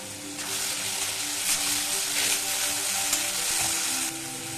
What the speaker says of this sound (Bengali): ভালো করে কষে নেবো যতক্ষণ না টমেটোগুলো ঘেঁটে যাচ্ছে আর মশলা থেকে তেল ছাড়ছে